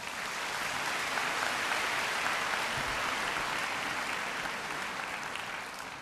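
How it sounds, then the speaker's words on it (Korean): Warm, steady applause from a congregation at a Korean mission conference, welcoming a missionary who serves in Jordan; a broad, even wash of clapping that holds throughout, with no talk over it. "나오실 때 우리 뜨거운 박수 맞이하겠습니다"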